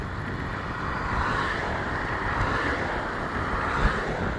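Headwind buffets the microphone of a rider on an ASKMY U15 MAX electric scooter along a bike path, a steady broadband rush of wind noise with a slight swell midway, no voices.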